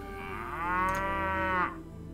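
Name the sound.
cattle mooing in video game Mount & Blade: Viking Conquest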